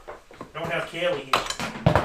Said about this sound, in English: That's the sound of a micron hitting the floor.